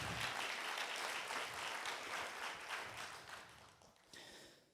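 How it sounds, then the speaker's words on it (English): Applause from a live audience at a talk on personal growth, a dense steady patter of many hands clapping for about four seconds before thinning and fading out. "Yeah, that is worthy of clapping."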